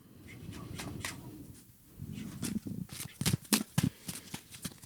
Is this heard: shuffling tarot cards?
yes